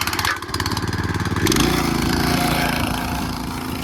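A garden tiller's small engine is pull-started, sputtering in quick uneven pulses, then catching and running loud and close with a steady rough drone.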